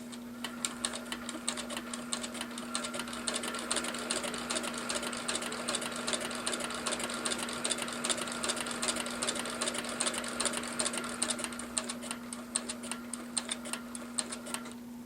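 A sewing machine stitches steadily through fabric, then backstitches in the same holes, giving a fast, even mechanical ticking with a constant motor hum throughout, close and unbroken.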